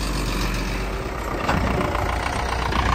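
A tractor engine labours under a heavy load of wet sawdust, giving a steady, loud, low rumble that holds constant without a break, with no voices over it.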